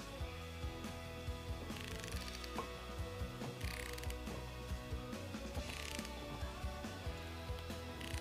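Ratchet clicking steadily as an engine is turned over by hand to check camshaft timing, a rapid repeating metallic pawl chatter with periodic heavier clunks, close and alone with no talking.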